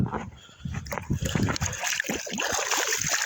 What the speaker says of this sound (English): First, I'm gonna wash my hand.